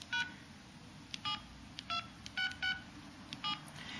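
Phone keypad tones beep as keys are typed one-handed, about ten short bright beeps in an uneven rhythm over a low background hum.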